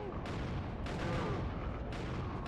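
Gunshots during a boss fight in the Killer7 video game, several heavy booming shots in close succession, loud and echoing, with a dense rumbling tail and no clear talk over them.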